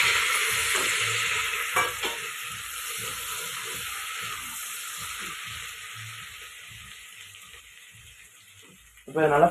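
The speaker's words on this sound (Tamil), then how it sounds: "இப்போ இதை நல்லா ஃப்ரை பண்ணிக்கலாம்." Cumin, pepper and cashews fry in ghee and butter, a steady bright sizzle with scraping stirs knocking underneath, fading slightly before a louder clatter at the end; a voice talks at times over the cooking.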